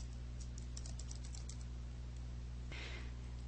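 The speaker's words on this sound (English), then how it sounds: "In this step, you can type in a name for the header." Typing on a computer keyboard: a quick run of light key clicks at the start, then a quieter stretch and one sharper tap near the end, all over a steady electrical hum.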